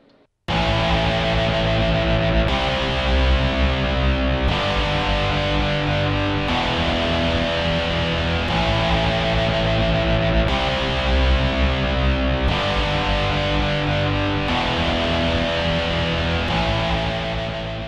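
Electric guitar plays a sequence of rock power chords for rock and metal, each chord ringing steadily and changing about every two seconds, loud and continuous with no talking.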